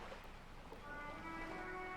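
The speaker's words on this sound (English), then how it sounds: "I hear the waves." Ocean waves from the video game Disco Elysium wash in a soft, steady surf, moderately quiet throughout, with faint tonal lines of the game's ambient music hovering above.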